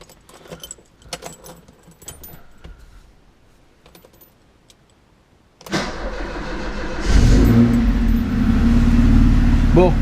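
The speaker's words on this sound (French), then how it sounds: "Bon, bonne nouvelle, elle démarre." A 1990 Alfa Romeo Spider cranks and fires up, settling into a loud, close idle after some keys jangling and small clicks inside the car.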